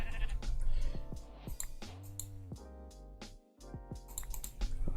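Several synthetic, tonal sheep bleats from Minecraft 1.18 at night, mixed with bright clicky effects and a musical backdrop, with a brief quiet dip partway through.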